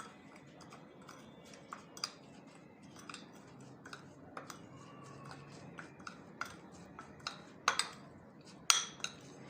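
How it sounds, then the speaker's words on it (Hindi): A spoon clinks and scrapes faintly against a bowl while chili pickle paste is stirred together with vinegar, with soft irregular taps and light wet stirring, quiet and close, with no talking. "इसको हम हल्का सा मिक्स करके पेस्ट बनाते हैं।"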